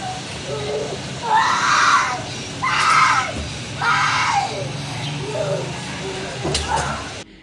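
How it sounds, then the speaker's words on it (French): A child screams in distress in several long, loud bursts separated by short pauses, raw and near, with a voice briefly heard between the cries. "La victime pousse des cris de détresse"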